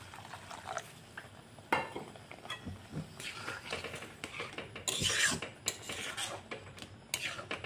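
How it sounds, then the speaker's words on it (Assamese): Sooji (semolina) being stirred with milk in a pan, a spoon scraping and clinking against the metal in steady, close strokes with soft wet rasping, no talk. "চুজিখিনি এনেদৰে উলট পালট কৰি এনেদৰে লৰাই দি আছোঁ"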